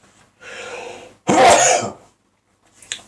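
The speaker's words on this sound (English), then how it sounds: "Obviously, you get the volume of the sneeze." A person sneezes loudly and close, a short breathy intake followed by a forceful burst, then a faint sniff or click afterward.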